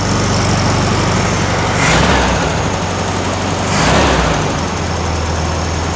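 A 1964 VW Beetle with a 1600cc dual-port engine idles off choke after a timing adjustment, a steady loud close-up rumble that briefly swells twice as the revs rise and settle.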